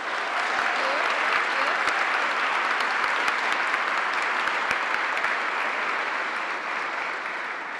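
Sustained applause from a forum audience welcoming Traci Rossi and Governor Kate Brown on stage, a dense steady clapping lasting throughout and tapering slightly at the end.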